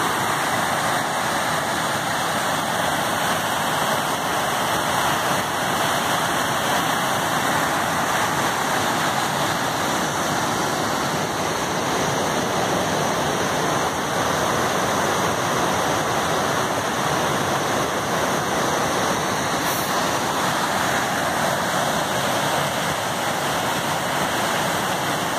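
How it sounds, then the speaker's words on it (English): A rushing creek runs through a snowy forest, its steady broadband roar of water continuous and loud throughout, with no voices heard over it. "here we can get a little view of the creek. You probably won't be able to hear me over the sound of it."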